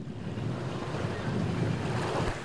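Sea waves and gusting wind at a windsurfing spot on a sunny coast, a continuous rushing wash of surf with low wind buffeting on the microphone, swelling slightly toward the end.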